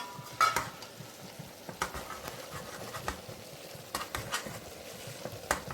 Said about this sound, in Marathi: हे सगळे गरम मसाले मिक्स एकत्र करून आपण परत तेलामध्ये फ्राय करून घेतो आहे